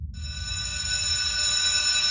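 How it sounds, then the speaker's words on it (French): A school's electric bell rings continuously with a bright, sustained metallic tone, starting abruptly and holding steady to the end. "La sonnerie du collège la tira de ses pensées."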